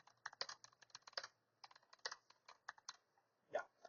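Someone types on a computer keyboard in short, quick bursts of soft key clicks with brief pauses, close and quiet, with no voice.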